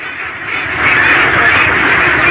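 Ducks on a very large farm of around 75,000 birds, a dense, loud, continuous mass of quacking that swells slightly louder after the first second.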